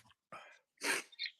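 A single sharp human sneeze bursts out close by, preceded by a couple of softer breathy sounds and followed by a brief faint catch of breath.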